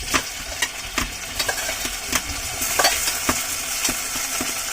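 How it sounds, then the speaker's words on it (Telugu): Onions cook in a pan before tomatoes go in for a village-style bamboo shoot curry: a close, steady sizzle broken by repeated sharp scraping and stirring knocks at an uneven pace. "మనం ఇప్పుడు ఉడకబెడుతున్న ఆనియన్స్ అయితే ఒక కలర్లోకి అయితే వచ్చిందనమాట. టమాటాని అయితే యాడ్ చేద్దాం."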